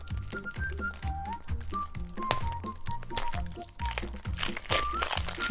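Plastic wrapper of a surprise egg snack being torn and crinkled open, a steady run of close crackling rustles with a thin whistle-like tone gliding through the background throughout.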